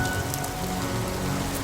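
Rain falls steadily outside an apartment building, a dense, even hiss of drops striking surfaces nearby, constant and unbroken for the short stretch.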